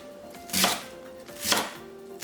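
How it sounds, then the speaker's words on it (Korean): A kitchen knife chopping cabbage into 1 cm squares on a cutting board, two sharp, close thuds about a second apart, with quiet background between them and no talk. "양배추 230g도 1cm 곱하기 1cm로 잘라서"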